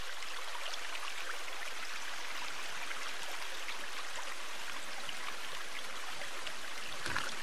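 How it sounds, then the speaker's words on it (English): Steady free-flowing stream water in the survival game The Forest, a continuous hissing rush of running water with no talk over it. "It is free flowing water"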